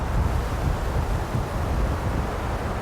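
Steady outdoor wind buffeting the microphone, a continuous low rumble with no pauses and no voices.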